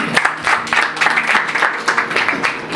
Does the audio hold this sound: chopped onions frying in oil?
no